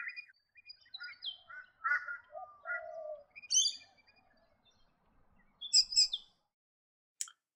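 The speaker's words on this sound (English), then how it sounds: "The call of the Teresian crow is commonly heard in the valley." Torresian crow calling in a valley, with a few scattered caws and chirpy notes among other bird calls, mostly moderate and somewhat distant, with silent gaps between them.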